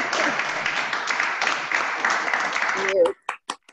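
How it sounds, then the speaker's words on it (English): On-site lecture audience applauding after a talk on the art of Gustaf Tenggren, a dense steady patter of clapping that stops sharply, followed by a few short bits of speech. "we have some applause here"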